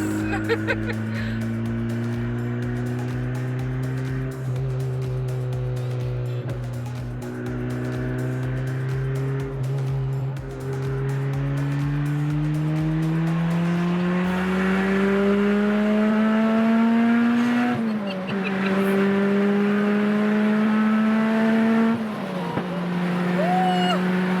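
A turbocharged Toyota Celica GT-S accelerates hard through the gears, its engine note climbing steadily with each shift while a turbo whine rises above it, loud and close from inside the car.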